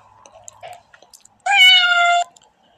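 A kitten in the cartoon pet game Mimitos 2 gives one clear, sustained, tonal meow lasting under a second, loud and up close, after a stretch of faint soft clicks and small sounds.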